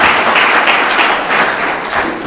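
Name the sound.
conference audience applauding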